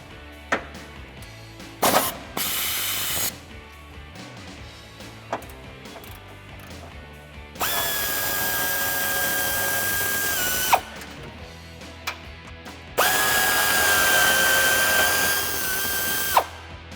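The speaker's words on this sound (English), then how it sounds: "We're gonna undo these 2 15mm bolts here" A power tool such as an impact driver or ratchet undoes two 15mm bolts on a 2007-2013 Chevrolet Silverado or GMC Sierra 1500 bumper, giving two long whirring runs broken by clicks and clanks, close and loud.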